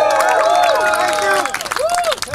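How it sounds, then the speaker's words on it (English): Fans at a Nick Oliveri live acoustic show in Italy cheer, whistle and clap close by, high whoops rising over a dense bed of crowd noise that thins toward the end. "Give yourselves a round of applause."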